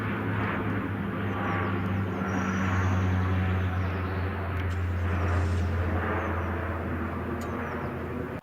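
An airplane drones steadily overhead, a continuous low engine rumble with a broad roar that swells gently and holds for the whole stretch.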